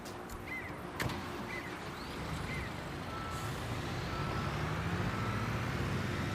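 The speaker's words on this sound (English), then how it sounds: "we'll go and move that dump truck to line it up underneath the excavator bucket" A dump truck in the Construction Simulator video game reverses with repeated backup beeps over a steady engine rumble, the beeps faint at first as the engine grows a little louder.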